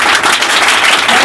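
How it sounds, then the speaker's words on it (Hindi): Loud, dense clapping from a group of village schoolchildren applauding a recited couplet about education, close and continuous for a brief moment. "बच्चों का ताली का गड़गड़ाहट जो दिख रहा है"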